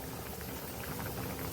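Fish curry simmers and reduces in a clay pot, giving a steady, close bubbling and popping that runs evenly throughout with no voices.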